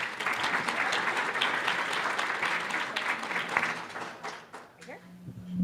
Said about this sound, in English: let's give Josh and Emma a nice round of applause.